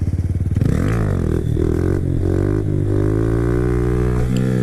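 A supermoto motorcycle engine revs hard and steadily under throttle during a wheelie, loud and close, with the pitch dipping briefly then climbing and holding.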